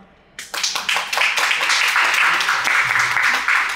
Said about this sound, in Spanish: Ah, qué finos aplausos